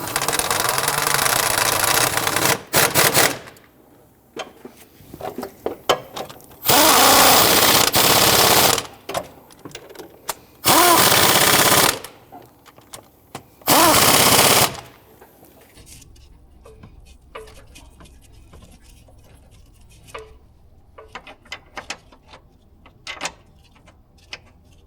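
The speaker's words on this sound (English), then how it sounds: "I'm going to go ahead and tighten down the 4 bolts on our bracket." Roughly four loud, sustained bursts from a power tool tightening the transmission mount bracket bolts on a 2011-2015 Kia Sorento 2.4L, separated by quieter clicks and shop noise.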